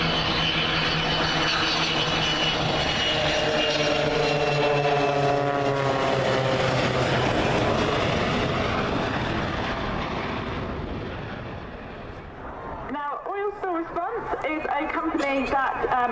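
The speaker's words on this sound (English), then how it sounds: "The 727 you can see is operated by 2XL under the partnership of T2" Boeing 727 of T2 Aviation making a flypast at the Cosford airshow, a loud sustained jet roar that builds and then fades as it passes, with crowd noise and a voice briefly audible beneath.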